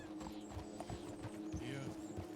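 Horse hooves clip-clopping at a walking pace in the Red Dead Redemption roleplay game WildRP, steady and moderately close beneath a constant background hum, with speech mixed in.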